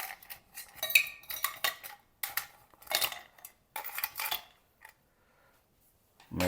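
Ice cubes tumble into a shaker for a ginger beer and rum cocktail, making a string of hard, glassy clinks and rattles in several quick bursts. The clinks fade out, and a louder knock lands at the very end.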